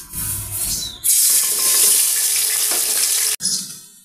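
Ground spice paste hits hot oil in a wok with a loud, sudden burst of sizzling that holds strongly for a couple of seconds, then stops sharply and fades to a softer frying hiss.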